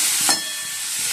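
Maggi noodles hitting hot oil in a pan, a loud steady sizzle and hiss with a brief swell as the noodles go in, close and continuous.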